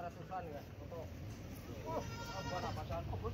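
Goats bleating at a livestock market ahead of Eid al-Adha, several wavering calls rising over a constant crowd murmur and nearby chatter.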